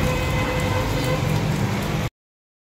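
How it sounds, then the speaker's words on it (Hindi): Rainwater rushing through overflowing street drains after heavy rain, a steady close broadband wash of flowing water that cuts off abruptly near the end. "और ये नाले भी बह रहे।"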